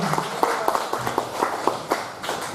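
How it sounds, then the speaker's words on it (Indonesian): Audience clapping for Ibu Heni at a Grand Ballroom anniversary and Halal Bihalal gathering, a scattered, moderately loud patter of hand claps through the whole stretch with no talk over it. "Tepuk buat Heni."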